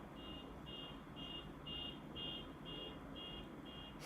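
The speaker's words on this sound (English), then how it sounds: "an alarm going off" An electronic alarm beeps in a steady repeating pattern of about eight evenly spaced high tones over a low background hum, heard alone.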